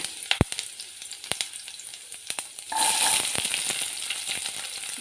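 Onions frying in hot oil with urad dal, intermittent sharp crackles and pops that turn into a loud, steady close sizzle partway through, with stirring and no talk.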